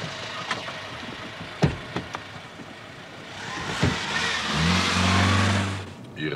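A car pulls away to follow a truck, its engine revving up and growling louder after a few clicks and thumps, ending in a steady mid-pitched drone with a rising whine.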